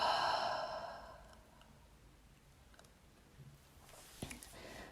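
A long, audible exhale during a guided Yin Yang meditation opens the clip, close and soft, and fades into near silence broken only by a few faint ticks.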